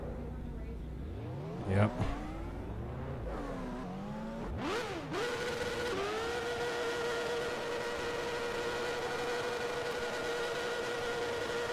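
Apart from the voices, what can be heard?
IndyCar engine sounds on cup car in racing video game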